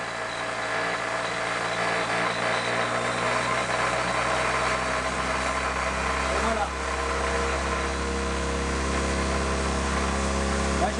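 Motor shaking a threaded rod fitted with nuts at about 3400 rpm, a steady, loud, droning hum with a constant pitch throughout and no pauses.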